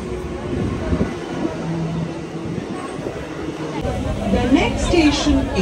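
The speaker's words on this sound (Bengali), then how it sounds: "ট্রেন আসছে, ট্রেনে অ্যানাউন্স করতে দেরি করে ফেলেছে জানো" A local train rumbles into a crowded station, a steady roar of wheels and carriages that swells louder toward the end, with busy crowd chatter underneath.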